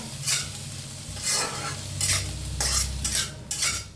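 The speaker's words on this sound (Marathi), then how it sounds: "आता कांदा हलकासा भाजत आलाय बघा" Onion fries in oil in a pan for a dhaba-style paneer aloo masala, giving a continuous close sizzle broken by several bursts of spatula stirring and scraping, loud and clear with no voices.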